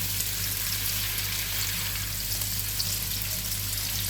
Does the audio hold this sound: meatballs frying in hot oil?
yes